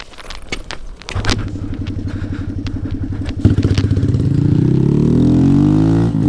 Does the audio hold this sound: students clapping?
no